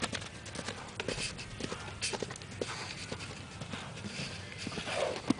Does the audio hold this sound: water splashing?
no